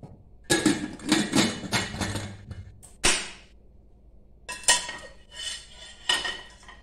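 Metal lid clattering onto a pressure cooker filled with water for boiling whole masoor lentils, a series of close, sharp clanks and rattles in bursts with brief pauses between.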